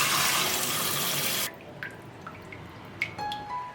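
Tap water runs loudly into a bowl to soak pork neck bones for about a second and a half, then stops, leaving a few scattered drips and small splashes close by.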